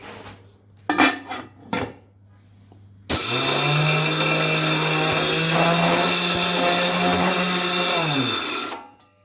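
Chrome-bodied electric spice grinder with a stainless steel blade and roughly 1 hp motor pulverizing coarse rock salt: a few sharp clatters of grains, then a loud, steady whirring grind with rattling crystals for about six seconds before the motor winds down.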